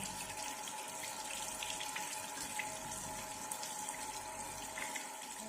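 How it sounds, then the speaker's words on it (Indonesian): Both hands are rinsed under running tap water, a steady splashing stream that stays even and moderately quiet throughout, with no talk. "kemudian bilas kembali kedua tangan menggunakan air"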